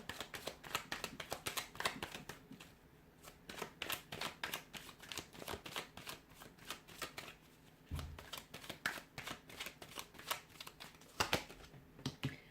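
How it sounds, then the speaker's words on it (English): Tarot cards being shuffled in repeated crisp riffling bursts, close up, with brief pauses and a soft thump between rounds; no talking. "I'm going to give the cards a shuffle"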